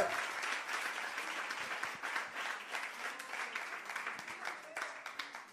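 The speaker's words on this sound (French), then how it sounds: "On applaudit bon Dieu." A church congregation applauding in praise during a service, a steady wash of many hands clapping that holds throughout at a moderate level, with voices mixed in.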